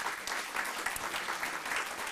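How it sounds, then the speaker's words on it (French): Steady applause fills a large conference hall as the audience welcomes the co-chairs at the opening plenary of the Open Source Experience event, a dense unbroken clatter of clapping hands with no speech over it. "je vous demande d'accueillir et d'applaudir les coprésidents de l'événement"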